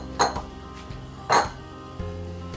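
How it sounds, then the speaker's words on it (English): Carrots being added to a pot of leftover roasted turkey stew: three separate clinks and knocks of metal and pot, each followed by a short ringing tone, close and distinct. "we're gonna add the carrots"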